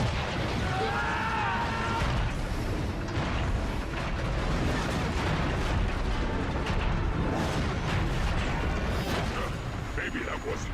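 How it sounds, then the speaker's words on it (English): Grenade blasts in Transformers: Fall of Cybertron, a dense stretch of booming explosions and crackling debris that fills the whole span, loud and continuous, with a voice talking over the chaos. "Grenade fire!"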